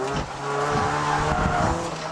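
A Honda Prelude drifts down a mountain touge road, its engine droning steadily and loudly as the tires squeal and skid through the corner, with no speech.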